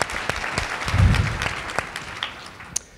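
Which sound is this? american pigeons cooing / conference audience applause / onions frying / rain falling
conference audience applause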